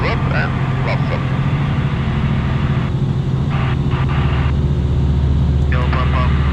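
Inside the cockpit of a Tecnam P92 climbing out after a touch-and-go in Bulgaria, the engine drones loud and steady throughout, with brief cockpit chatter over it.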